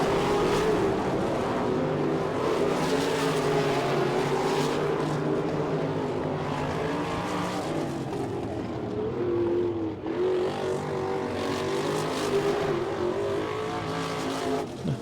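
410 sprint cars race at Attica, Ohio in a season opener, a continuous loud roar of several engines droning and surging together without any commentary over it.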